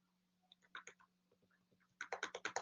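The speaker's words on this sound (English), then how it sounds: "I'm just typing some random text" Keys click on a computer keyboard, a few scattered taps followed by a quick, close burst of faster typing in a quiet room.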